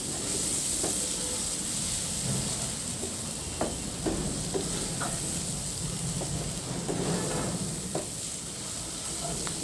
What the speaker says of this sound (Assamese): এতিয়া এইখিনি অকণমান ৰঙচুৱা কৰি ভাজিব লাগিব।